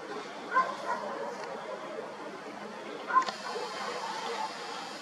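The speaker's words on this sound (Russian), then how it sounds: "С такими дружелюбными собачками." Several dogs barking and yipping outdoors at night, with a couple of sharper barks standing out over a steady background hum.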